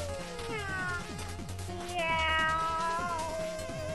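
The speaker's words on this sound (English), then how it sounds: "Meow." Cat meowing in the video game Shovel Knight, with a couple of drawn-out meows rising over a steady, bouncy chiptune music track; the second meow is louder and longer.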